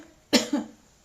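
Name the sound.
storyteller imitating a cough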